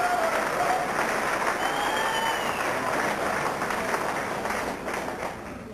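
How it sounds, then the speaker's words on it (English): At a 1992 GM motorsports banquet, a crowd keeps up a sustained round of applause, thick even clapping that tapers slightly toward the close. "Another round of applause."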